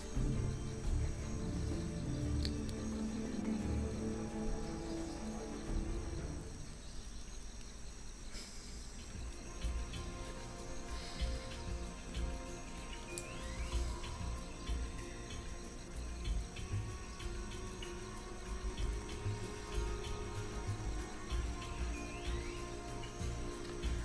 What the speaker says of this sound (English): The cricket sound effect, though, is a bit repetitive.